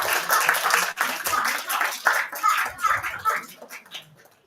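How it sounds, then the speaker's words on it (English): Audience clapping for children at a holistic happiness production event, a close, uneven burst of hand claps in irregular clusters that fades out toward the end. "Can we have a huge round of applause for all the children?"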